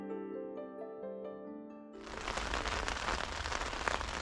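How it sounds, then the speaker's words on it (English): Rain at a riverside campsite along the Danube: after soft sustained musical tones, a dense hiss of falling rain abruptly takes over and continues steadily and loud. "Yeah, it's raining."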